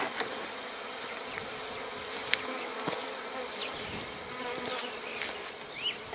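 Steady buzzing of many honey bees close by, a dense continuous hum with brief louder passes of individual bees near the end.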